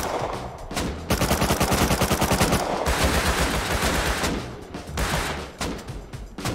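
Loud, close automatic gunfire from a survival shooter video game, rapid sustained bursts with brief pauses between volleys and no talking over them.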